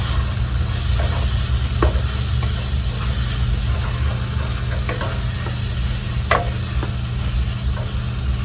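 Vegetables for a camp-kitchen lo mein sizzle and soften in a pan with a steady, close frying hiss, broken by a few sharp clicks of stirring. No one speaks.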